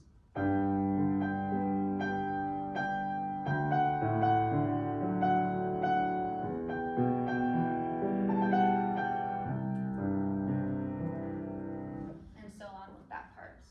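Piano plays a flowing passage in a two-against-three rhythm with dotted notes, the two hands' rhythms overlapping unevenly, with sustained chords ringing throughout.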